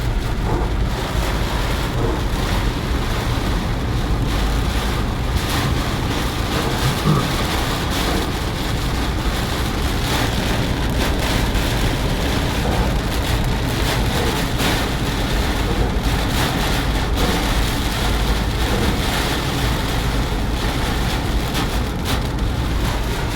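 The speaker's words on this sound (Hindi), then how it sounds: "यहाँ पर बहुत तेज़ बारिश है।" Heavy rain pouring steadily during a storm in Multan, a dense, unbroken hiss with wind buffeting the microphone; no thunder stands out.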